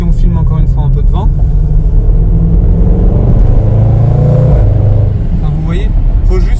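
A Range Rover SVR engine rumbles steadily while the SUV drives, a loud close drone from inside the car with a French-speaking voice talking over it.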